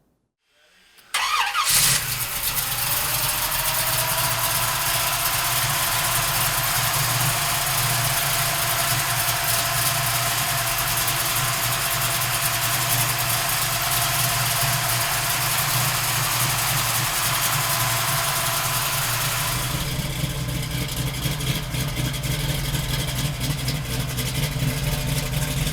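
A 1968 Chevrolet Camaro engine cranks and fires after a short silence on a cold, snowy day of about 5 degrees, then settles into a loud, steady, close idle that runs on alone for over twenty seconds with a slight shift near the end.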